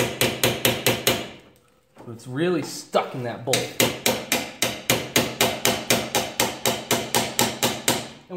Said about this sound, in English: Could take a little hammer and snap the thing in there.